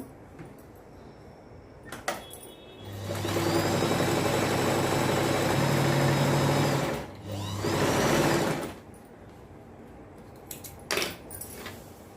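A sewing machine runs in two bursts as it stitches the leg of a patiala salwar. The first whirring run is longer and the second is shorter, with a short pause between them and soft handling clicks before and after.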